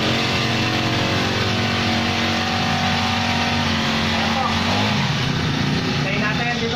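A gasoline grass cutter engine runs loud and close with a steady, buzzing drone that holds throughout, and faint voices sit underneath it.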